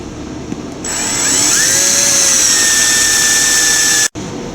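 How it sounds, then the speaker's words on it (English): Power drill spinning up and drilling a hole through material along a traced template, a loud steady high whine that starts abruptly, holds for about three seconds with a shifting pitch, then cuts off sharply. "Drill holes no deeper than the tape you placed on the bit along the inside edge of the traced hole"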